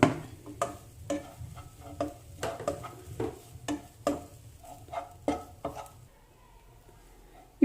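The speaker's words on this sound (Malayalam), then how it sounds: "ഇതിൻ്റെ അകത്തേക്ക് നമുക്ക് തേങ്ങ ഇട്ട് വറക്കാം." Grated coconut stirred and dry-roasted in a hot pan for a Kerala chicken curry, with a steady series of scraping spoon strokes against the pan at an even rhythm, close by, fading out near the end.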